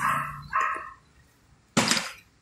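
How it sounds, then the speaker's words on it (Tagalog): A dog barks loudly twice in quick succession, then once more after a short pause, close by. "Ang ingay ng aso"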